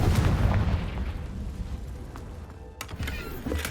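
A Confringo fire spell blast in the Hogwarts Legacy video game, a loud booming burst at the start that rumbles and fades over a few seconds, followed by small crackles.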